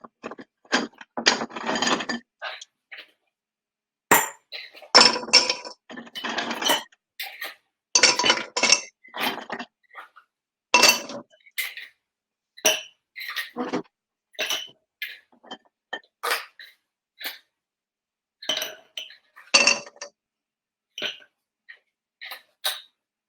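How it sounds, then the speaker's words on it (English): Ice cubes clatter into a cocktail glass for a Bloody Mary in irregular bursts of clinks and rattles, close and fairly loud, separated by short silences, with no voices. "fill your glass with ice"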